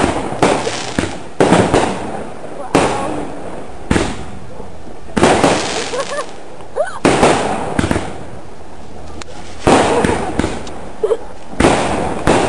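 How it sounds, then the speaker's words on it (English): Fireworks exploding at an outdoor celebration after dinner, loud sharp bursts and crackling pops arriving in irregular clusters with brief pauses between volleys, a few voices faintly audible in the background. "So some more fireworks post dinner."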